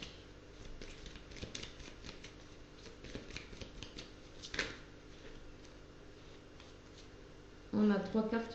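Oracle cards are shuffled in soft, rapid riffling bursts over a quiet background, ending in a brief clatter as the deck is handled.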